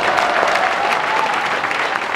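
A large crowd of about two thousand people applauds at a talk concert for the Seongnam mayor in Sejong Hall, dense and loud clapping held evenly throughout.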